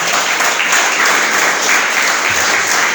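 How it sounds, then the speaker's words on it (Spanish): Church congregation applauding the Lord during a Spanish-language sermon, a dense, steady roar of many hands clapping at once that holds loud and even for the whole stretch. "Denle un aplauso al Señor"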